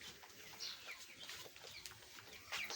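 Broiler chickens on a farm give soft, scattered clucks and brief chirps, quiet and somewhat distant, with a small burst of calls at the end.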